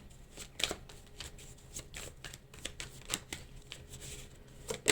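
Tarot cards are shuffled and cut by hand close up, a run of soft, quick riffling and slapping bursts at irregular intervals.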